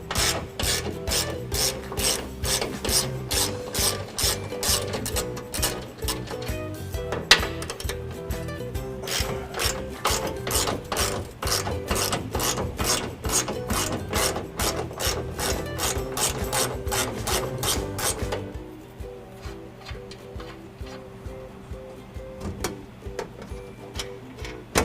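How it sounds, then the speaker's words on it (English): A ratchet loosens the hardware on the driver's side of a 2018 Ford F-150 during a trailer hitch installation, giving a rapid, steady clicking that runs for about eighteen seconds and then drops to a quieter background. "Loosening the hardware on the driver's side."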